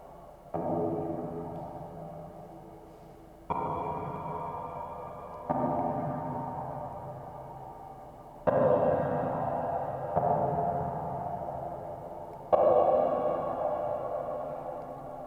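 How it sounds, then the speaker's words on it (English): A synthesized arpeggio of sustained, shimmering notes that shifts pitch every couple of seconds, layered and echoing like a cave, steady and fairly loud with no voices. "We have the arp going here."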